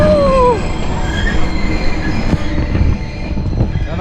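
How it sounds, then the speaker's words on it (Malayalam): Ooty toy train rolling past on its rails, a steady loud rumble of wheels and carriages with a squealing wheel screech at the start, continuous and close throughout. "കണ്ടോ നമ്മുടെ ഊട്ടി ട്രെയിനാണിത്."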